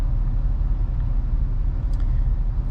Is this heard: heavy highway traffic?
yes